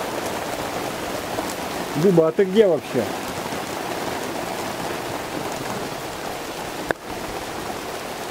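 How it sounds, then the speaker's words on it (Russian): Rain falls hard in bright sunshine during a sun shower outdoors, a steady dense patter and hiss close by throughout, with a brief spoken question partway through and a sharp knock near the end. "Слепой дождь."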